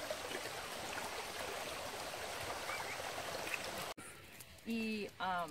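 A river stream flowing steadily close by during a first horseback ride, a broad continuous rush of water that gives way near the end to a brief pause and clearer calls over quieter water.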